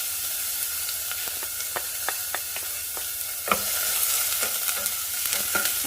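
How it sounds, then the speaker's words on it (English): Chopped onion sizzles in hot cooking oil in a preheated pot, a steady close frying hiss broken by several sharp clicks and scrapes as it is stirred. "I'm going to saute."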